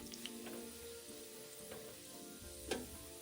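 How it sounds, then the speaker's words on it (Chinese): Sliced shallots deep-frying in about 150 ml of oil over medium heat, a soft steady sizzle with a few faint clinks and one sharper tap near the end, quiet and close. "然后油炸至表面金黄。"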